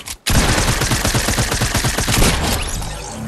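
Rapid, continuous automatic gunfire in the battle royale game Fortnite, a loud close burst of evenly spaced shots lasting about two seconds and then trailing off.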